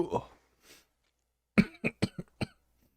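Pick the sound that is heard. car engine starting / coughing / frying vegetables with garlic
coughing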